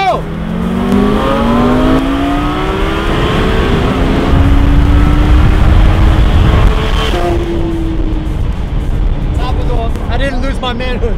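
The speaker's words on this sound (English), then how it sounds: "That is a ridiculously fast car for naturally aspirated." A naturally aspirated Porsche sports car pulls away hard at full throttle, its engine note climbing steeply through the gears in loud, close rising sweeps with brief shift breaks, while people talk inside the cabin over the roar.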